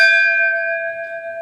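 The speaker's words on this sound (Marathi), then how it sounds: "नंदी महाराज पाया पडून आपण जरा देवाची घंटा वाजूया" A single strike of the bell at the hilltop Khandoba temple in Ajivali village near Panvel rings out close and clear, its metallic tone fading over a second or so with no voices.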